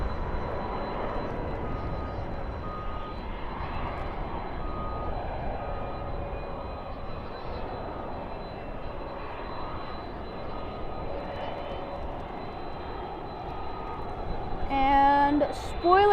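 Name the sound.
Airbus A319 arriving at Dallas/Fort Worth airport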